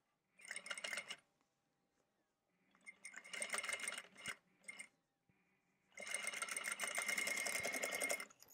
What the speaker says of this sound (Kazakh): Енді бұны қайтарып тігіп жіберемін.